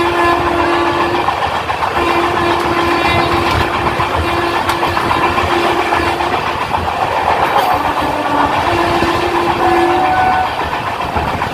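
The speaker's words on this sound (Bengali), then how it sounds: "হাওড়া রামপুরহাট শহীদ এক্সপ্রেস বালি রেলওয়ে স্টেশন পাস করছে" Howrah–Rampurhat Sahid Express train running through Bali railway station, a loud steady rumble and clatter of wheels with long horn blasts sounding repeatedly across the pass.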